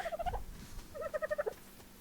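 A chicken in the Ark survival game gives two short bursts of rhythmic clucking, fairly quiet and close, with no talk over it.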